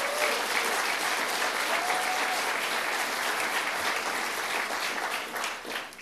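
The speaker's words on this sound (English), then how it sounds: "Let's give her a round of applause." An audience claps through a steady, dense round of applause that fills the whole stretch and tapers slightly at the end, with no voices over it.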